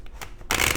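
A tarot card deck being shuffled at close range: soft rustling that bursts into a loud, dense riffle of cards in the second half, with no voices.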